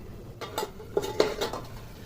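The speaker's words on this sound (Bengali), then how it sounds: "কড়াইটাকে একটু ঢেকে দেবো" A metal lid set onto a wok of fish roe cooking on low flame, a few close clanks and rattles over about a second, then a faint background hiss.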